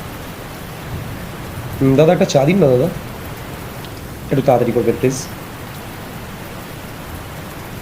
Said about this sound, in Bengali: অসম্ভব বৃষ্টি বেরিয়েছি তখন এতটাও বৃষ্টি ছিল না